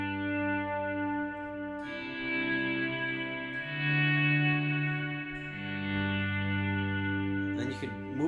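Sustained electric guitar chords drenched in heavy reverb, each one swelled in with volume and without tremolo, shifting slowly between several chords with long, ringing tails.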